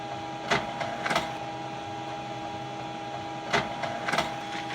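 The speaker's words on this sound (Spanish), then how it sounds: "Esta es una impresora láser" A monochrome laser printer runs with a steady mechanical hum, broken by pairs of clicking, whirring bursts as pages feed, recorded close with no talking.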